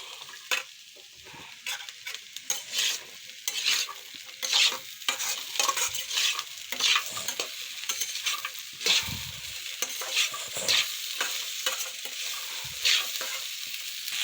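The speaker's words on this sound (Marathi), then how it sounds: "चांगलं फ्राय होऊ देऊ याला." Green peas and pea peels frying in a pan, with a steady close sizzle under repeated scraping and stirring of a utensil against the pan.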